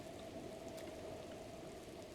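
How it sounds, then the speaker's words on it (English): Rain falling in The Legend of Zelda: Breath of the Wild makes a faint, even hiss with a low steady tone underneath, continuous throughout and with no talk over it. "I know it's raining."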